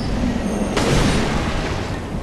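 An enemy gunshot in Bloodborne lands as a single sharp, booming report over steady ambient rumble, then trails off quickly.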